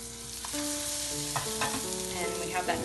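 A crêpe is turned over in a hot frying pan. A steady sizzle carries a soft scrape and thump partway through, with gentle sustained musical tones underneath and no talking.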